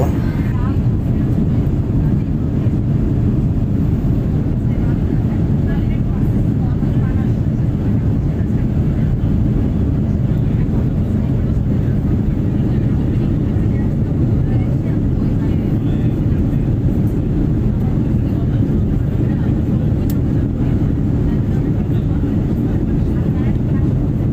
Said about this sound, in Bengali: যখন জেদ্দা বিমানবন্দর থেকে ঢাকার উদ্দেশ্যে রওনা দেই, যখন বিমান আকাশে উড়ে যায়